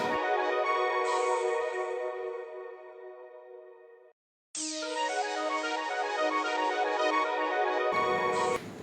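A mobile phone rings loudly with a bright repeating melodic tone, briefly cutting out before resuming and continuing.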